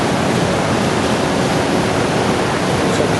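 Niagara Falls on the American side roars as a dense, constant, loud wash of falling water, unbroken for the whole stretch.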